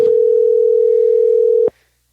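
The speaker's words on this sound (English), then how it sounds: "Old-fashioned ringtone right there, too." An old-fashioned telephone ringtone plays loudly as one steady, unbroken pitch for under two seconds, then cuts off abruptly into silence.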